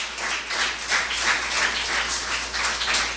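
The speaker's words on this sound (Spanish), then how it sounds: "Denle un fuerte aplauso al Señor." A church congregation claps in a steady, fairly loud round of applause with a rhythmic pulse, and no voices rise above the clapping.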